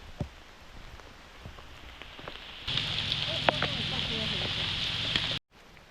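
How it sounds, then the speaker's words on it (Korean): Heavy rain falls on a mountain hiking trail, a dense steady patter that grows louder and closer midway, with scattered sharper drops and no talk. "비가 많이 옵니다."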